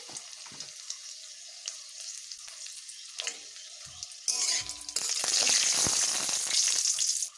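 Dried and ripe chillies crackle and spit as they temper in hot oil with five-spice seeds, starting as a soft, scattered sizzle and swelling into a loud, steady fry for the last few seconds, no voices.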